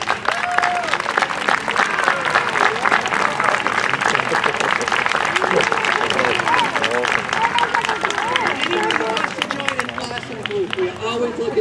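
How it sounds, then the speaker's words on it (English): An audience at the Scituate Library summer concert series applauds members of the library's Friends group, with continuous clapping and crowd murmur for over ten seconds while voices call out on top of it. "stand up because you deserve a round of applause"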